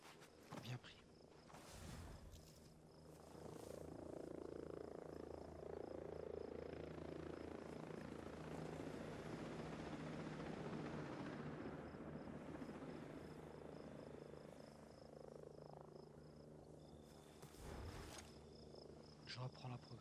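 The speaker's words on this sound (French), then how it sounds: "Hélicoptère, hélicoptère, à terre." Helicopter in the tactical shooter Ghost Recon Breakpoint, a steady rotor drone that rises and holds loud for most of the stretch over a chirping insect ambience, with brief louder bursts near the start and end.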